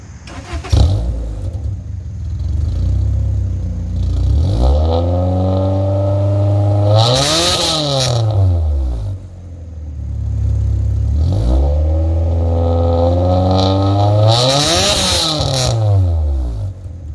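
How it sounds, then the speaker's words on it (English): A car fitted with a new exhaust revs up twice, each time climbing to a loud, raspy peak and dropping back to a steady idle, close and loud with no talking. "I've driven the car around a little bit, and if you drive it moderately, it doesn't sound half bad."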